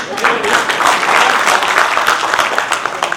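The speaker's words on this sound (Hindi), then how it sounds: "आप लोग कम से कम तालियां तो बजाइए।" Crowd clapping at a Hindi comedy poetry gathering, a dense, sustained burst of applause from many hands, fairly loud and continuous throughout, with some voices mixed in.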